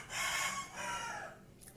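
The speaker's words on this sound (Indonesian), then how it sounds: "Ayam aku bunyi lagi sih." A rooster crows once, fairly close, in a single drawn-out call that trails off near the end over a low background rumble, with no talking.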